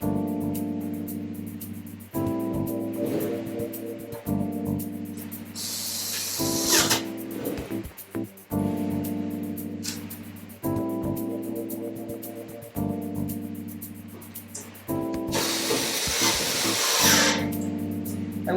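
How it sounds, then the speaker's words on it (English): Screws being driven into a mining rig frame with a power tool, several whirring bursts of a few seconds each separated by short pauses, close and fairly loud with no talking. "So we'll just screw those in with the screws that were here."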